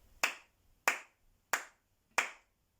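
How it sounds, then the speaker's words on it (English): Four sharp hand claps in a steady, evenly spaced rhythm during a rhythm and body percussion music lesson, each crisp and close with a quick decay, with quiet gaps between and no talking. "Can you tell me which rhythm I clapped?"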